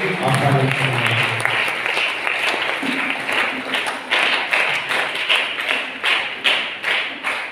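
A church congregation at a Christmas midnight mass claps to welcome the priest. The clapping is brisk and sustained, with many hands, and a voice speaks over the start of it.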